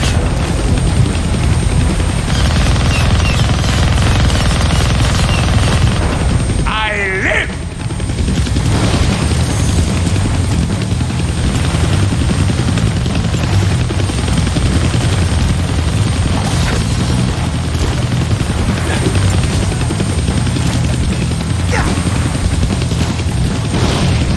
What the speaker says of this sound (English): you can't hijack a chopper while it's flying around trying to turn you into shredded cheese?